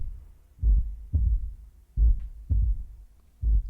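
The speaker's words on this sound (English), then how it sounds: "It's a long outro for a heartbeat." A heartbeat sound effect in the outro of a song, five deep, thumping low beats at a steady, slow rhythm, loud and isolated.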